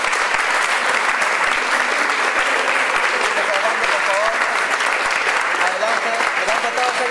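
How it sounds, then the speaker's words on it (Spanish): An audience at a youth music contest applauds a band during the awards. Dense, loud, unbroken clapping lasts several seconds, with a voice faintly audible through it. "Fuertes palmas, por favor"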